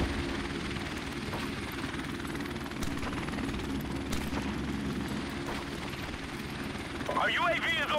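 A helicopter in Call of Duty: Modern Warfare Remastered, a steady whirring rotor drone hanging under the battlefield ambience for the whole stretch, with a voice breaking in near the end.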